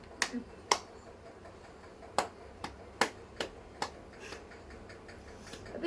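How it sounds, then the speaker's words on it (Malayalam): A person claps by hand, about nine sharp, separate claps spaced irregularly, crisp and fairly near against a quiet room. "ഉമ്മ ഒരു ക്ലാപ്പ് അടിച്ച് കാണിച്ചു കൊടുക്ക"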